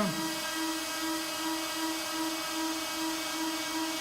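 Bitmain ASIC T15 crypto miner running in energy-saving mode, its power supply giving a steady loud whining fan drone with a faint pulsing tone, continuous and without speech.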